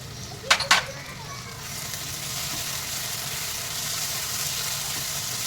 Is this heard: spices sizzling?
yes